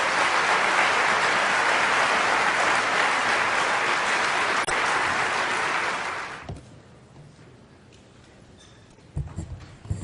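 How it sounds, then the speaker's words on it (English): An audience applauds after an award speech at the 2010 Raymond Lindeman Award presentation: loud, dense clapping that holds steady for about six seconds, then cuts off abruptly into a quiet room with a few faint stray noises. "I'd like to just do one more round of applause for all the speakers"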